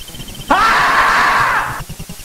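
A sustained synthesized scream from the Akira Famicom video game, a single loud wavering cry lasting over a second, rising out of quiet background chiptune and cutting off abruptly.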